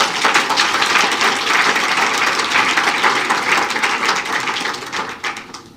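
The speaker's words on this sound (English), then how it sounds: "So if you can please give a hand of applause." An audience applauds at a Mandela tribute event, loud dense clapping sustained across the whole stretch before tapering slightly at the end.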